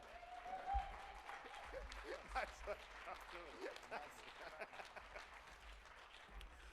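Faint scattered clapping from a small crowd, thin and uneven, with some murmuring voices in the background.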